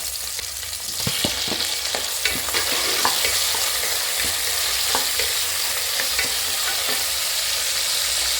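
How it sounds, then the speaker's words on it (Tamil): Green chillies sauté in a hot pan for vegetable pulao, giving a steady, close sizzle broken by scattered scraping taps from stirring. "பச்சை மிளகாய் வதக்கட்டும்."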